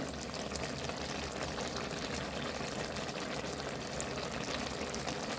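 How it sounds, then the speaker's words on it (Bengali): Water poured into a pan of soybean curry, a steady broadband splashing and bubbling wash that runs evenly from start to end, close and fairly quiet, with no talking. "এবার এর মধ্যে জল দিয়ে দেব খুব বেশি দেবো না"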